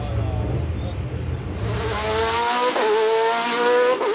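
A race car at the Saint-Ursanne-les-Rangiers hill climb, a high-pitched engine rising through the gears as it approaches and passes close and loud, with a faint voice underneath.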